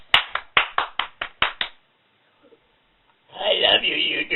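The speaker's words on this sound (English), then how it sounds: "Round of applause." A single person claps about eight times, close and crisp, in an uneven burst. A pause of near silence follows, then a voice speaks.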